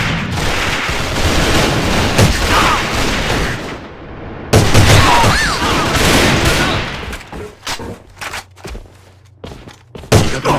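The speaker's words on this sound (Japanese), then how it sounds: "敵の手榴弾。" Video game combat with rapid, loud gunfire bursts and a grenade exploding, followed by scattered shots and footsteps as the firing thins out.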